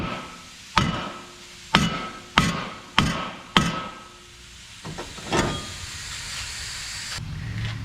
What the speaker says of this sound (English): going to be striking it in between the lug studs with a nice size hammer